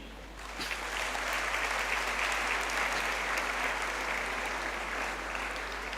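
An audience at a student orientation session claps steadily and evenly for several seconds, a sustained dense patter with a low hum underneath.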